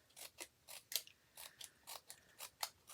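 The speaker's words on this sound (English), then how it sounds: "it really doesn't take very long when you use your paper snips" Paper snips cutting a fringe into cardstock for a handmade card: about ten crisp, evenly spaced snips in a steady rhythm, close up and fairly quiet, with no talking.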